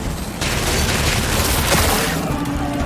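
Sustained gunfire and heavy booms in the video game Gears 5 as weapons fire on a ship, a loud continuous barrage with dense blasts throughout, no speech.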